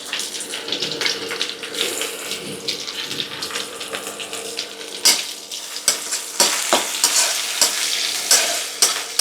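Chopped onion hits hot oil with garlic in a pan for a spinach and vegetable fry, a loud hiss broken by sharp stirring scrapes and clatters that grow busier toward the end, with no speech.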